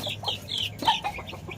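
Hungry chickens cluck and squawk close by as they are fed, giving short, excited, overlapping calls in quick bursts.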